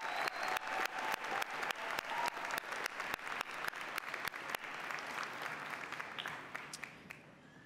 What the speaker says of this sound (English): Let's have another round of applause for Director Archuleta